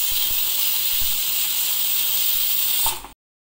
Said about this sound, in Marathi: तर कुकरची शिट्टी